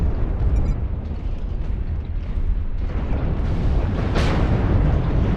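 Weapon fire in MechWarrior Online striking a rock, a loud continuous rumbling roar of impacts and blasts that swells near the end, with no voices.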